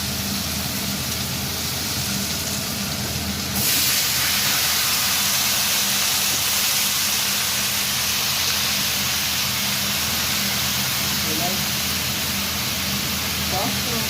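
Chopped bottle gourd hits hot oil in a pan where fish was just fried for a Bengali lau jhol, setting off a sudden loud, steady sizzling hiss that holds continuously to the end.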